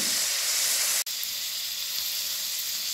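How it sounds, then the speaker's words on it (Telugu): Onion slices and green chilies frying in a pan give a steady, close, bright sizzle that hisses evenly throughout, apart from one brief dropout near the one-second mark. "2 పెద్ద ఉల్లిపాయలు తీసుకుని ఇలా స్లైస్ల కింద కట్ చేసుకుని వేయించుకోవాలి."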